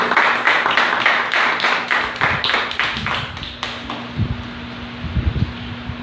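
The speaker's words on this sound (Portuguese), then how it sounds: "Vamos aplaudir Jesus" A church congregation claps together in a quick, rhythmic burst that fades after a few seconds, followed by a steady low hum and a few scattered thumps.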